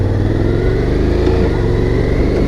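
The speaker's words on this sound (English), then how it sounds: "twist the throttle, and it goes through the gears, nice and smooth" A Honda Forza 750 scooter pulling away under throttle, its engine note loud and steady as the automatic gearbox shifts smoothly, heard close up while riding.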